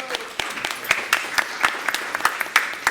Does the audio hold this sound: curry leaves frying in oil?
no